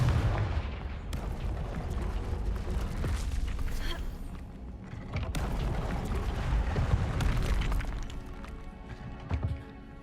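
A Confringo blasting spell in the video game Hogwarts Legacy goes off as a series of booming explosive bursts with rumbling low thuds, some louder than others, alongside game effects and brief voices.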